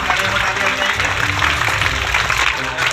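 Steady clapping from a crowd welcoming children at a Children's Day celebration in a forest-village school in Harda district, continuous and fairly loud throughout, with voices mixed in.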